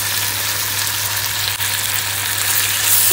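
Small omena fish deep fry in hot oil with a dense, constant bubbling sizzle that holds steady and close throughout, no one speaking.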